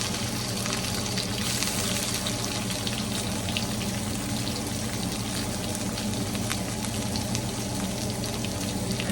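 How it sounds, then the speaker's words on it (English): Vegetables stir-frying in a hot pan, giving a steady close sizzle and hiss that holds at an even level throughout with no one talking. "We're just gonna start giving these a quick little stir fry in here."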